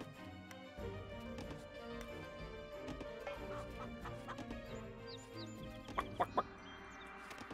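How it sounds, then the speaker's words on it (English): Chickens clucking in Age of Empires Definitive Edition, short scattered clucks mixed into game music and effects, with a few louder sharp taps near the end. "Gotta love that chicken noise."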